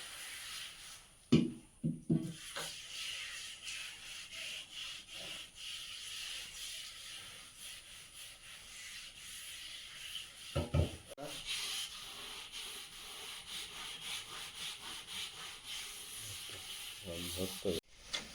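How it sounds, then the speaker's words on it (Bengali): A household fridge being scrubbed and wiped clean with detergent water, a continuous close rubbing and swishing texture broken by a few louder knocks and clatters, with faint talk in the background. "এখন সার্ফের জল করে আগে পরিষ্কার করে তারপরে মুছতে হবে"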